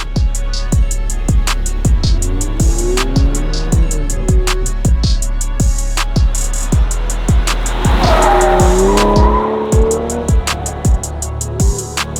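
A performance car corners hard on a racetrack, its engine note rising and falling close by while tires squeal sharply through the turns, with no talking.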